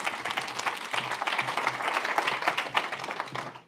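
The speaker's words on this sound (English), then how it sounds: "Big round of applause for David Moore." Audience at a fintech conference in Leeds claps for a speaker coming on stage, a lively burst of many hands clapping that fades toward the end.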